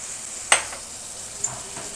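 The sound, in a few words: ginger-chili paste and spices frying in hot oil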